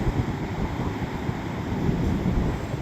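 Strong wind buffets the microphone on an Oregon coast beach, a loud, steady rumbling roar with gusty low-end thumping and a hiss of blown sand or surf, continuous throughout and with no voices.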